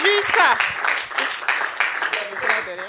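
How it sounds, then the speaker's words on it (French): Audience applause rises at a French-speaking community gathering: dense, steady clapping from a seated group, with voices talking over it throughout. "Est-ce qu'on peut les applaudir, s'il vous plaît?"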